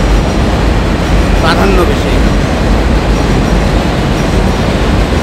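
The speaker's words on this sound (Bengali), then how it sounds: "ট্রেন যাচ্ছে, সেজন্য একটু নয়েজ ছিল" A train rumbles past close behind someone talking on a street in Jackson Heights, New York, at night, its steady roar filling the background throughout.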